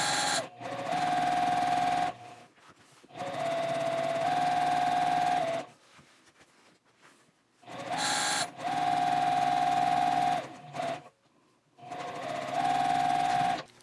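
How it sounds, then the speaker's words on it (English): A sewing machine stitching a straight line at 2.5 stitch length with back stitches at each end, whirring in several bursts of a few seconds each, separated by short pauses, close and clear. "I'm just going to go ahead and stitch on that line, do back stitch at both ends"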